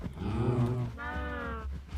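Cows moo in the Minecraft modpack Strangelands, two drawn-out, close lowing calls, one deeper and one higher, over light game background.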